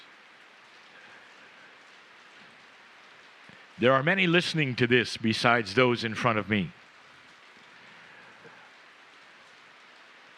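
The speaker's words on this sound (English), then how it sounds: "you may hear the sound of the rain" Steady rain falls throughout as a soft, even hiss, with a person speaking briefly in the middle over it.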